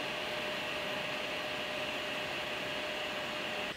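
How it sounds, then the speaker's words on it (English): A loud, steady whir from the cooling fans of an AMD S10000 dual-GPU graphics card from 2012, spinning hard with a constant broadband rush that holds unchanged throughout, heard alone without any talking. "The third fan in particular is spinning like a washing machine on its final spin cycle with pure vigor and determination."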